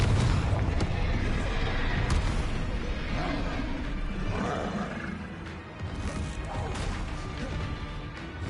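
Confringo, a blasting spell, exploding in Hogwarts Legacy: a crashing, booming blast buried in a continuous, dense roar of spell combat that stays loud throughout.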